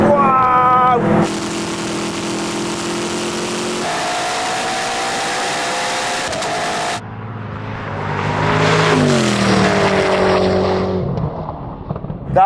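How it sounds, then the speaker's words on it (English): Koenigsegg Regera and Agera RST hypercars launching in a drag race, loud engine roar rising in pitch through gears, then a second car's engine surging past and fading, continuous and close. "That was a good launch from me."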